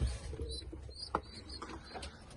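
Soft cooing of pigeons with their chicks inside a loft, faint low murmurs and a few brief chirps and rustles over quiet room noise, without talk.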